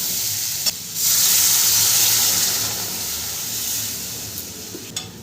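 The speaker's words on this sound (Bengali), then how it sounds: "জলটা দিয়ে ভালো করে মিশিয়ে নেব।" Water poured over fried potatoes in a pan for aloo posto bursts into a loud hissing sizzle that swells after a second, holds steady, then slowly eases, with faint stirring.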